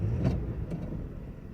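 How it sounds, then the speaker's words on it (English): A car engine running rough gives a low, uneven rumble that stays fairly faint and steady for a moment, with no voices. "Car's running rough."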